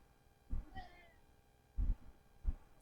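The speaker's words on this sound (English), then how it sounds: "Not a little kitty, but I have a kitty in front of my telly right now." A Maine Coon cat meows quietly indoors, giving a short mewing call followed by two low, brief vocal bursts, all faint against a steady background hum.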